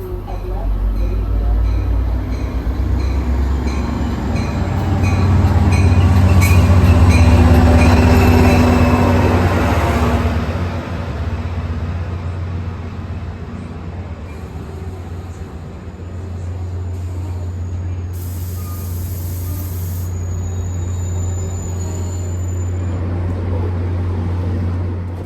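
A passenger train rumbles steadily along the rails while crossing the Delaware River bridge, with a loud swell of rolling noise, faint wheel squeal and a brief high whine later on.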